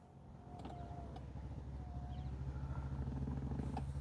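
An MG Gloster's electric memory seat motor drives the backrest rearward, a steady low mechanical hum with whirring tones running continuously and growing slightly louder, no talking over it.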